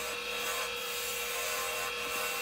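A bowl gouge with an Irish grind cuts wood spinning on a lathe while a vase is turned, giving a steady, continuous scraping rasp that stays even and close throughout, with no talk.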